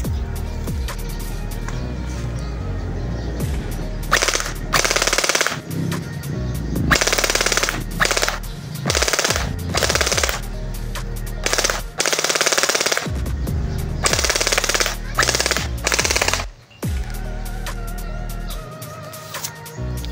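A Bohan MK8 v2 airsoft gun fires fully automatic in loud, rapid bursts, several strings of shots separated by short pauses over about twenty seconds, close to the listener.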